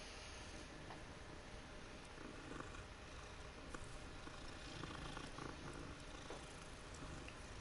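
A cat purrs softly, a faint continuous rumble with gentle pulsing, quiet and close.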